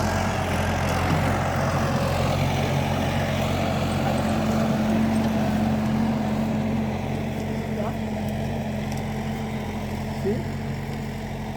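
A tractor pulling a disc harrow through garden soil being prepared for ginger and vegetables, a loud, steady low engine drone throughout, with people talking over it.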